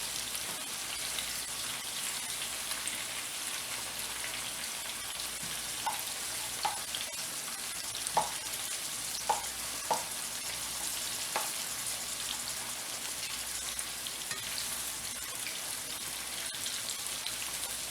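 Yellow summer squash slices sauté in a pan, making a continuous crackling sizzle with scattered sharper pops and light stirring taps, steady throughout with no voices.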